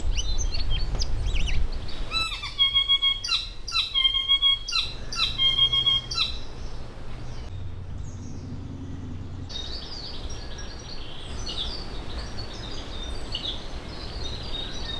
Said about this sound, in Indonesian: Banyak banget kan suara burungnya.